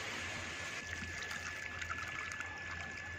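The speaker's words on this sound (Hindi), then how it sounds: "अब इसको अभी अभी पॉट किया है तो इसमें थोड़ा पानी डाल देते हैं" Water poured from a container into the soil of a freshly potted croton plant, a steady, continuous trickle heard fairly close, running for several seconds without talk.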